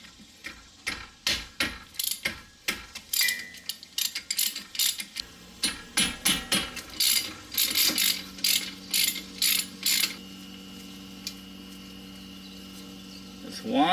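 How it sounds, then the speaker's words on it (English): A ratchet loosening 14mm brake caliper bolts on a 2007 Toyota Highlander Hybrid, with rapid, close clicking in repeated bursts, then a steadier whirring stretch near the end. "You want to remove the caliper first. There's two bolts holding on to it."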